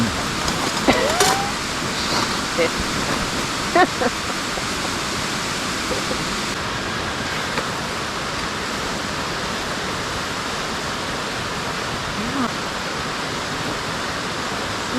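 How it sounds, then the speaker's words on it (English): Steady rain falling along White Oak Canyon in the forest, a continuous dense hiss with no break, with a couple of faint brief sounds near the start. "Oh, it's raining."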